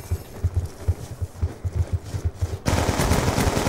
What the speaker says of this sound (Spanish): ¡Disparo efectuado!